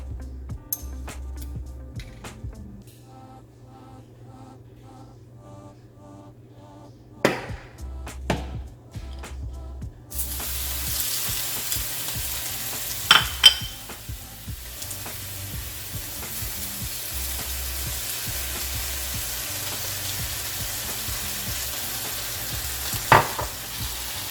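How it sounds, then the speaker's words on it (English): Portobello mushrooms in pure sesame seed oil are first handled with a few clinks and knocks, then a steady, moderate sautéing hiss takes over halfway through, with occasional utensil taps and no talking. "So that's what I'm going to use for the portobello mushrooms. And also I'm going to saute it with this pure sesame seed oil."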